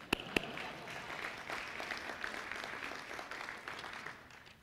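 An audience at a Texas Venture Labs address by a university dean applauds steadily for several seconds, a moderately distant wash of clapping that begins with a couple of sharp claps and fades toward the end.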